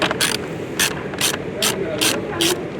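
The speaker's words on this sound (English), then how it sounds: "we're going to remove these two screws using the 10mm socket" A ratchet with a 10mm socket clicks in quick repeated bursts, about six short back-and-forth strokes, loosening screws during a 2023-2026 BMW M240i installation, close and crisp over a low background hum.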